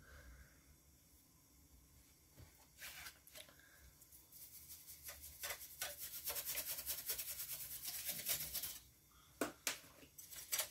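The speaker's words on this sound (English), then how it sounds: "I'm just dusting this all off" A brush sweeps dust off the internals of an Xbox One X console, quiet at first, then a close run of rapid scratchy rubbing strokes that builds and ends in a few separate swipes.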